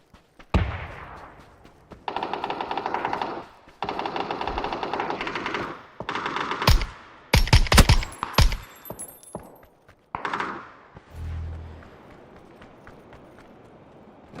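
Bursts of rapid gunfire from the battle royale game PUBG, loud and close, with dense automatic volleys separated by short pauses and a few single shots, no talking.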